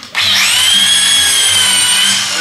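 A power buffer with a buffing pad spins up on the paint of a 1934 Ford Coupe, a sudden loud, high whine that holds steady and close.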